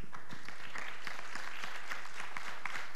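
Audience applause for a stage performer at a talent show, a steady wash of many hands clapping at moderate, somewhat distant level throughout with no speech.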